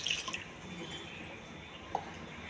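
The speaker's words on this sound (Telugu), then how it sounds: "ఈ గ్లాస్తో 4 గ్లాసులు వాటర్ వేయాలి." Water is poured from a glass over washed red rice in a cooking pot, a steady close hiss of liquid with one brief drip-like splash near the end.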